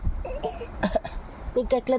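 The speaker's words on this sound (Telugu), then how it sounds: "అబ్బా నాకు దగ్గు వస్తుందని నువ్వు దగ్గుతున్నావా?" A child coughs a few short times, with a young voice and an adult speaking around the coughs.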